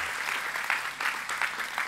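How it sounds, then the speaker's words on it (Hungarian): A church congregation applauds at a Hungarian sermon to welcome first-time visitors, the clapping coming in rhythmic, swelling bursts at moderate volume with no speech on top. "És még egy nagy tapsot adtunk azoknak, akik először jöttetek."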